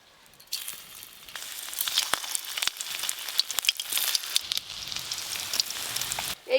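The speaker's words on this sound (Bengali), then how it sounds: "এই কোপ্তাগুলো উল্টে পাল্টে লাল লাল করে ভেজে নেব।" Fish koftas made from rohu fry in hot oil, crackling and popping in a bright, close sizzle that swells after a quiet start and keeps spitting steadily until a short break at the end.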